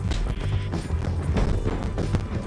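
Horse hooves in the video game Red Dead Redemption 2 give a rapid clip-clop of a running horse, close and loud over rumbling game ambience.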